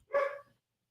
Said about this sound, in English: the youngest dog of the two who is making all the noise